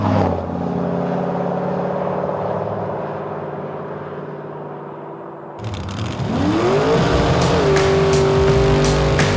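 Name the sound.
muscle car driving and accelerating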